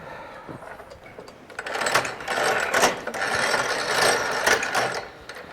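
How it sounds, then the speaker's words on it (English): A heavy, durable commercial apple paring machine being hand-cranked through about three turns, paring and coring an apple; a steady mechanical whirring and scraping grinds on for several seconds, fairly close and alone. "Just 3 turns of the crank, and not only pares, it takes the core out."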